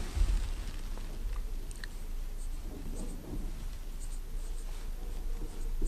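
Chalk or marker scratching steadily across a classroom board as Turkish word examples are written out, a close, continuous scraping with no talk over it.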